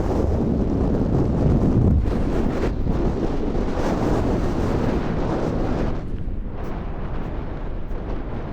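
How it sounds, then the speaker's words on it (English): Strong wind buffets the microphone on the coast at Dunkirk in northern France, a loud continuous roar and rumble that holds steady throughout, easing slightly near the end, with no voices. "Now I am back here in Dunkirk, north part of France, and it's so windy."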